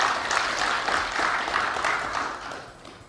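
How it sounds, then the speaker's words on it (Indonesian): A crowd at a political gathering in Kalimantan claps together in steady, dense applause that holds at full strength for a few seconds before tapering slightly. "tepuk tangan dulu"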